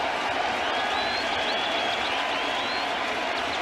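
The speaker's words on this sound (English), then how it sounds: "Crowd is into it." Sustained applause and cheering from a large baseball stadium crowd after a strikeout during a Tampa Bay Rays versus New York Yankees game, a dense steady roar with scattered whistles throughout.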